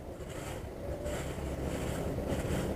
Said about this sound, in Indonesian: Angin, guys.